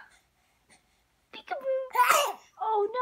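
A baby gives a quick sneeze-like burst amid short wailing, moaning vocal sounds, close and fairly loud after a quiet start.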